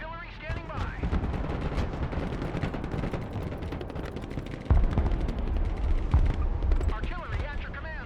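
Mobile artillery fires in a strategy video game, a dense run of rumbling blasts and rattling shots close up, with a voiced unit line at the start and end.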